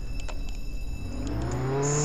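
A car in the Roblox game Jailbreak drives off, its engine hum rising steadily into a revving whine over about two seconds, loud and close with no talk.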